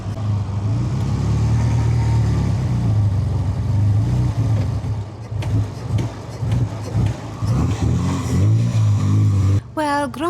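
A grumpy vintage Bugatti engine runs unevenly near the listener, a low throbbing rumble that sputters and surges with irregular pops, then cuts off abruptly before a voice speaks.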